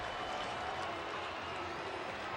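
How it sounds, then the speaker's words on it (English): Baseball crowd at a tied bottom-of-the-ninth game, a distant, steady mass of cheering and chanting voices rumbling continuously throughout. "Crowd here chanting Carlos, Carlos."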